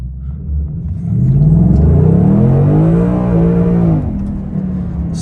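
A 2021 Ford Mustang Mach 1 accelerates hard from a standstill with traction control off, its V8 rumble swelling into a loud, rising rev that climbs steadily for about three seconds before easing off, close by and with no talk.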